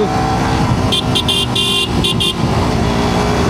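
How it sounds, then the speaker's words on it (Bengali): A Suzuki GSX-R150 motorcycle horn beeps in a rapid series of short honks over a steady engine and road noise, loud and close. "আর এটার হর্ন লাগিয়েছে, অনেক সুন্দর হর্ন আসলে।"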